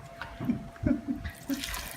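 Soup is poured messily while noodles are being made, giving a few brief wet splashes and dribbles close by. The sound is uneven and spread over about two seconds.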